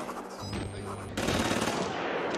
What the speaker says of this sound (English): Oh, good. Gunfire.